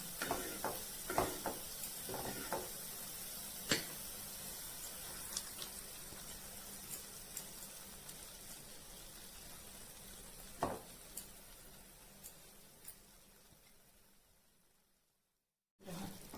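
Spinach frying in ghee with tomato for palak paneer, a steady soft sizzle with occasional sharp clinks and stirring scrapes, continuing evenly until it cuts out near the end.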